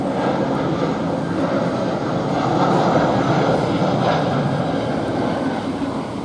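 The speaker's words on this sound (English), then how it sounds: "Now we've got another EasyJet coming in to Luton." An EasyJet airliner comes in to land at Luton Airport, its broad jet roar steady and fairly loud overhead, heard from near the railway station without talk.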